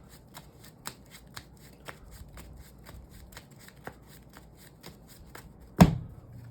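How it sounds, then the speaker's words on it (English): Yu-Gi-Oh cards being shuffled by hand in a steady run of crisp riffles, close and fairly quiet, closing with a louder handling thump. "We're going to shuffle,"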